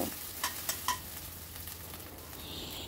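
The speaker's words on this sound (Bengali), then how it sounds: "অনবরত কিন্তু নাড়তে হবে, নেড়ে নেড়ে এটাকে কষিয়ে নেবো, মশলাটাকে ভালো করে কষিয়ে নেব।" Spice masala with garlic and ginger being stirred and fried in a pan for a fish dish, with a steady close sizzle, a few sharp clinks of the spoon near the start and a brighter hiss rising toward the end.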